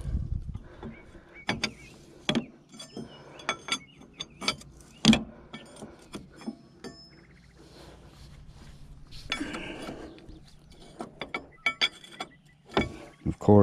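Metal parts clink and a wrench ratchets intermittently while a grader hydraulic cylinder is tightened during reassembly, with scattered close knocks and scrapes.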